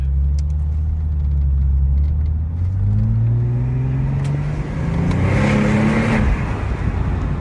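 A Porsche 997 Turbo accelerates hard in second gear, its engine note climbing steadily from a deep rumble to a rising roar heard from inside the car, loud and continuous with road noise underneath.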